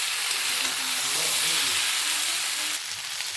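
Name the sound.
vegetables frying in a pan on raised gas flame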